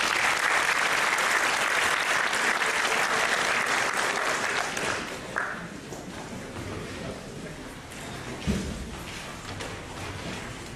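Steady applause from an audience at a university celebration ceremony, moderately distant, dense clapping fading slightly after the middle with a few thuds near the end.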